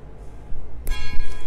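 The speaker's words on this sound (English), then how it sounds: "The bell is ringing." Bells ring in Vienna at Christmastime, one bright strike after a low background murmur, its tone ringing on and fading through the rest of the moment.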